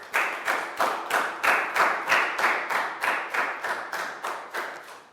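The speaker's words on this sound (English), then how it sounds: "So a big round of applause." A round of applause at the close of a children's English lesson, heard as a small group clapping in unison with a steady beat of about three claps per second, close and clear, with no talk.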